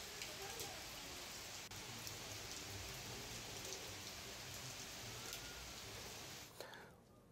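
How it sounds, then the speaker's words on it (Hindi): Heavy monsoon rain pours down in Bilaspur, Chhattisgarh, a dense, steady hiss of drops that holds evenly throughout and fades slightly at the very end. "बिलासपुर में झमाझम बारिश का दौर"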